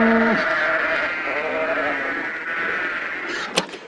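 Sheep on a farmyard bleating, a long wavering cry close to the microphone with a second overlapping bleat, followed by a brief sharp knock near the end.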